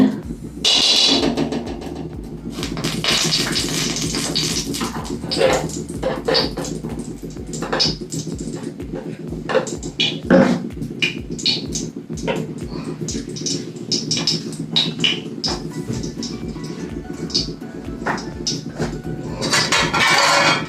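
Metal utensils scrape and clink against a wok as ghee melts for carrot halwa in a home kitchen, with sharp, irregular knocks scattered throughout and someone talking between them.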